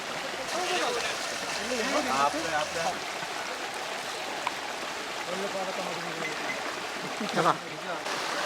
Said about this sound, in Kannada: ಬಳಿಕ ತೆಪ್ಪದ ಸಹಾಯದಿಂದ ಕಾವೇರಿ ನದಿ ಪ್ರವಾಹವನ್ನ ದಾಟಿ ವರ ಫಿರೋಜ್ ಮನೆಗೆ ವಧುವಿನ ಕಡೆಯವರು ತೆರಳಿದ್ದಾರೆ